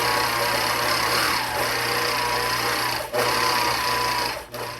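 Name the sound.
sewing machine stitching out a pantograph row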